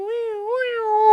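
A voice imitates an approaching fire truck siren with a Doppler shift: a single sustained, loud, wavering tone that bends upward partway through and holds, alone with no other sound.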